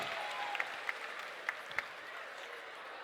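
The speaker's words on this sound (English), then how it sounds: "big round of applause for these two fighters" Crowd applause for two fighters after a cage fight at a Ragin 6 event, a steady, distant wash of clapping with a few sharper claps standing out, fairly faint throughout.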